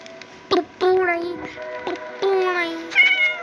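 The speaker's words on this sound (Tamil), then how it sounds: "பூனை." A cat meows several times in a row, each call rising and falling, up close and clear, with children talking around it during a Minecraft game session.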